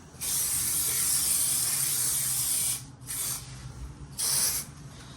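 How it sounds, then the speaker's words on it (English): Adhesive sprayed from an aerosol can onto carpet tiles during a home installation: a long hissing spray burst followed by two shorter ones, close and crisp, with quiet gaps between. "just spray a little bit"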